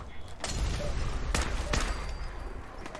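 Gunfire in the video game Fallout 4, a few heavy, sharp shots cracking over a low rumbling background, fairly close, with a voice talking during the exchange.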